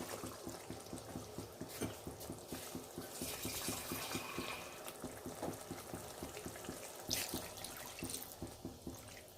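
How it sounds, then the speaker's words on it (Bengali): Water going into a pan of prawn curry, a soft splashing and bubbling over a steady background sizzle, fairly faint and close. "একটু জল দিয়ে দেব পরিমাণ মতো।"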